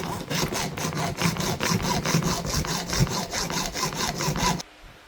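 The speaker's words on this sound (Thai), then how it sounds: "เราจะตะไบล้อข้างๆให้มันขาดออกนะ ต้องให้มันขาด" Rapid rhythmic rasping strokes of a file and saw grind through a metal suitcase wheel axle up close, about four strokes a second, then stop abruptly.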